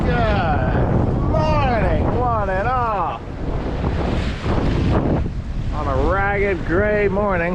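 A winter gale on a sailboat roars as heavy wind buffets the microphone. Someone talks over it the whole time, and the wind rumbles on without a break.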